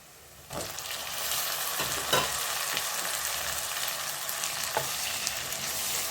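Onions, dried red chillies and tomatoes frying in oil for a chicken gravy, giving a steady close sizzle with occasional stirring scrapes and no talk.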